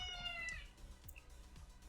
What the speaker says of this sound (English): Sorry if you can hear my cat, she is not having it.